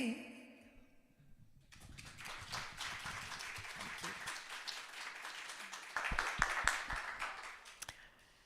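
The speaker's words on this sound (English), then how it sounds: "Please, shall we clap again for her?" A church congregation claps during a Sunday morning service after a musical performance, a dense, sustained patter of many hands that swells slightly toward the end, with faint voices beneath.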